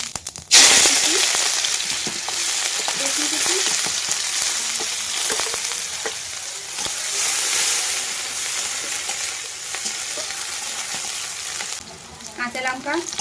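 Cumin seeds hit hot oil in a wok with a sudden loud sizzle that settles into a steady, crackling fry lasting several seconds, with light stirring scrapes throughout.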